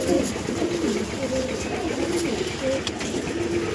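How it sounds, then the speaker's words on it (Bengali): An Andhra pigeon coos in a steady, soft series of low warbling calls close by, over a constant background hum and rustle. "অনেকে দেখে বলে দেবে পালসার পায়রা, আরসাদের পায়রা, কিন্তু না, আন্দারা পায়রা আছে"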